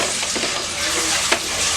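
Soaked rice being sautéed with tomato and onion in a pan for tomato rice, a steady close sizzle with soft stirring scrapes and one sharper clink near the end.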